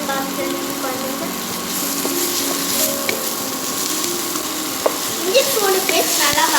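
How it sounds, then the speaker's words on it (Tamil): Ginger garlic paste sautés in a pan while a roadside-style mushroom dish is cooked, giving a steady, close hiss of frying with occasional scrapes and clinks from stirring. "இஞ்சி பூண்டு பேஸ்ட் நல்லா வதங்கி பார்க்கலாம்"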